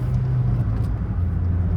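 A 2009 Toyota Yaris with a manual gearbox accelerates toward highway speed, giving a steady, loud low engine and road drone from inside the cabin with no talking.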